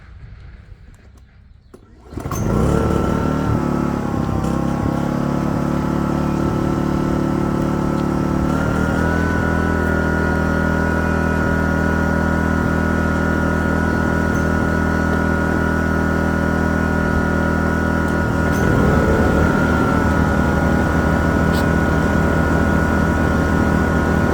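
A Kraft&Dele KD185 inverter generator engine sputters to life after a brief quiet moment, then settles into a steady, loud, continuous hum that runs without pause to the end.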